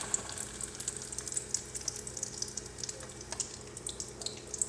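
Egg-coated beef shami kabab patty frying in oil, a steady close sizzle with scattered crackles and pops, no talking.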